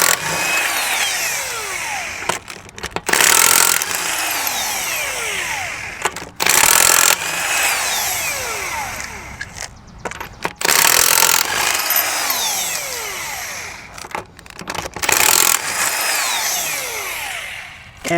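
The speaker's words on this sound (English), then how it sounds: "we're gonna go ahead and take off the lug nuts here" An impact wrench with a 21mm socket runs in loud, close bursts of hammering whir as it removes lug nuts from a Hyundai Palisade wheel, several separate runs with brief pauses between them.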